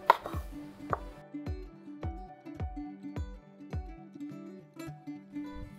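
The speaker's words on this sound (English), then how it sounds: "next we're just gonna cut the lemon for seasoning" A knife cuts through a lemon on a board, about a dozen crisp, evenly paced chops close by with a light ringing tone after each strike.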